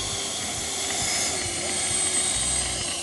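Freewing Messerschmitt Me-262 V2 RC jet with twin 70mm electric ducted fans taking off, a steady loud high-pitched whine and rushing roar that holds nearly constant, with no voices.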